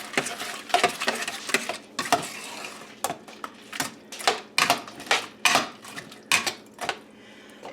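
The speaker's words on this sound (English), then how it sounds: "Let's get this all mixed up in here." Casserole ingredients with celery being mixed in a dish on a woodstove, a steady rhythm of loud, close scraping and clinking strokes of a utensil against the dish, each stroke rising and falling in quick succession.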